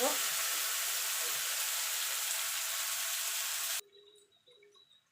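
Chopped onion frying loudly in a pan, a steady close sizzle that fills most of the clip before cutting off abruptly, leaving faint quiet background.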